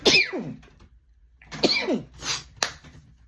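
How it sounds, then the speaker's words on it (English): Two sharp, close sneezes burst out about a second and a half apart, followed by a softer exhale and a quick click. "I have to sneeze."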